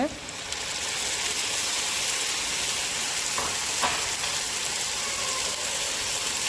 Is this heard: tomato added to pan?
yes